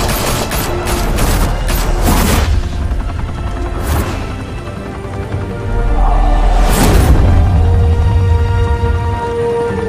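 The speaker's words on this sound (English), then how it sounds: "Open fire!" Gunfire in Batman: The Telltale Series, loud rapid bursts of automatic fire and booming impacts over a sustained rumbling background, with a fresh volley near the middle and heavy shots continuing to the end.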